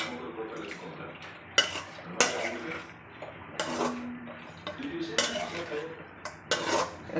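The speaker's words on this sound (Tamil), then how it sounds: "நல்லா ஒரு 5 நிமிஷம் அப்படி நல்லா பிரட்டி விட்டுக்கிட்டே இருக்கணும்." Metal spoon scraping and clinking against a pan while chicken curry is stirred, with repeated sharp taps of utensil on metal in an irregular rhythm and a soft sizzle underneath, close and moderately loud.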